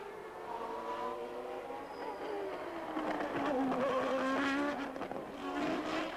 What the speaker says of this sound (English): instead of hearing beautiful, crisp, clear sounds from the V12, the V10 and the V8 engines these days